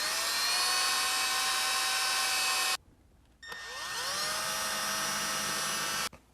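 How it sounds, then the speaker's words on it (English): A high-pitched power drill whines loudly, stops briefly, then spins up again for a second run before cutting off. "I'm going to drill my other two holes while keeping this straight."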